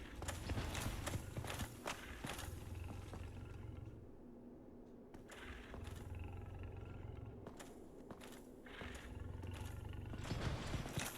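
A boar enemy in Dark Souls Remastered stomps heavily and roars in loud, repeated low bursts, with thudding footfalls running through and brief lulls between outbursts.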